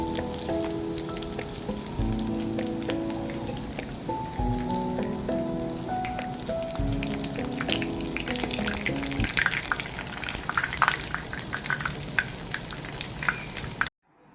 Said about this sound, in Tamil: இப்போ ஒரு பேனில் நல்லா எண்ணெய் சூடானதுக்கப்புறம் மீடியம் ஃப்ளேமில் வச்சுட்டு நம்ம ரெடி பண்ணி வச்சுருக்கிறத உள்ளே ஆட் பண்ணிடலாம்